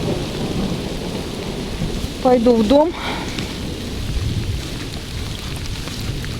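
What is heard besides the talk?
thunderstorm with heavy rain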